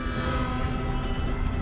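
Moving train in the Red Dead Redemption 2 video game, a steady loud rumble with sustained whistle-like tones running through the whole short stretch, no talking over it.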